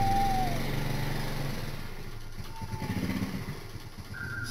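Engine of an old man's motorcycle pulling away at night, a steady low drone that fades slightly as the bike moves off, with a few clattering mechanical ticks and no talk.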